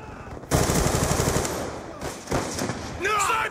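Rapid automatic gunfire from a Call of Duty match, loud bursts in quick succession with short pauses between them.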